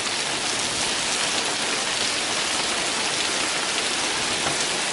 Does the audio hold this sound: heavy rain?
yes